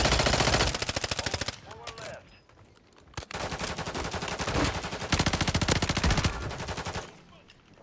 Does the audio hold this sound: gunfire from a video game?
yes